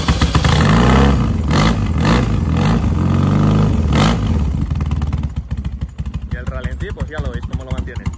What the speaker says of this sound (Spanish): la moto la verdad que suena estupenda